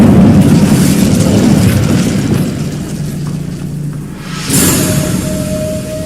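A fire spell cast in Hogwarts Legacy: a loud whooshing, roaring burst that fades into a rumble, followed by a sharp bright flare and sustained crackle.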